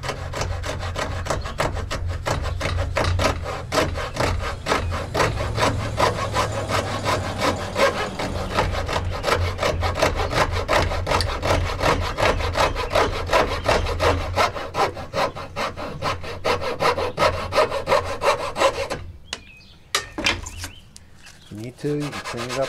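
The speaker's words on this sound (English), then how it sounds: "I'm gonna back cut that piece" Hand saw back-cutting a wooden molding for a cope joint: quick, steady rhythmic strokes rasp continuously for about nineteen seconds, then stop, leaving a few softer scrapes.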